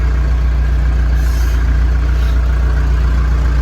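A heavy diesel YTO EX tractor engine idles steadily up close, a loud low droning chug with a constant cooling fan whir and no talking.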